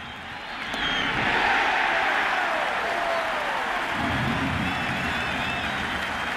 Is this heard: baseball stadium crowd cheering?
yes